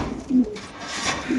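A BRPFC racer pigeon coos twice, low and throaty, close by over a soft, hissy background.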